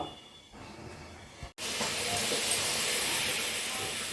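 A pressure cooker with biuli dal vents steam: after a quiet stretch and a brief cut, a loud, steady, broad hiss starts and carries on without break.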